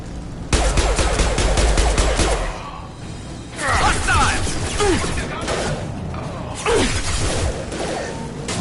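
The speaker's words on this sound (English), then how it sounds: "The Blue Suns and Vorcha shooting anything that moves." Gunfire from Blue Suns mercenaries and Vorcha in the video game Mass Effect 2, a dense, loud burst of rapid automatic shots up front, then scattered whooshes and impacts of combat amid game noise.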